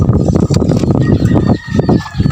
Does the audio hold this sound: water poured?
no